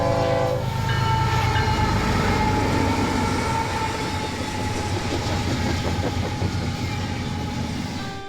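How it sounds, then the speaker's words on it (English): Train rolling past beside the Missouri River, loud and close, with a long horn blast at the start and rhythmic clickety-clack of the wheels continuing as it passes, gradually easing. "a train's on its way, so it's gonna get really loud"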